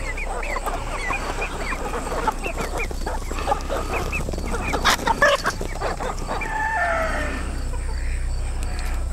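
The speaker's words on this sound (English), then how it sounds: "unfortunately I'm gonna scare some chickens again." A flock of young chickens, around 17 to 18 weeks old, clucks and cackles steadily nearby in a coop, with a rooster-like crow breaking through near the end over a constant low background hum.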